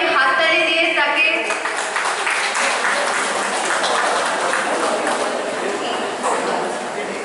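An audience applauds at a Rabindra Jayanti cultural celebration, a dense, loud wash of clapping that carries on steadily and eases slightly toward the end, with voices mixed in.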